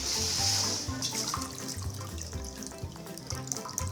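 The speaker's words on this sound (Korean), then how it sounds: "자, 물을 빼주는 건데요." Water drains and trickles from soaked rice being prepared for makgeolli. A gush at first settles into softer dripping and splashing, heard up close with no voices.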